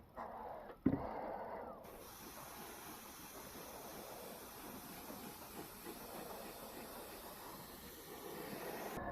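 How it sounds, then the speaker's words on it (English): An airbrush sprays red paint onto a model, giving a soft, continuous close hiss that holds steady for several seconds after a brief knock at the start. "Got an airbrush, so let's put the red on this."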